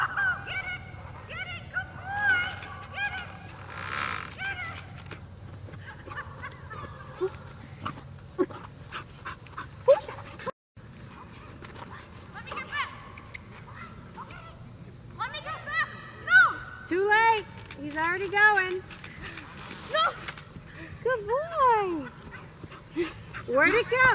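A puppy yips, whines and whimpers repeatedly in high-pitched bursts over steady background noise, with people talking now and then.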